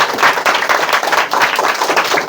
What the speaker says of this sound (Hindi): चांदनी के लिए एक बार जोरदार ताली बजाओ।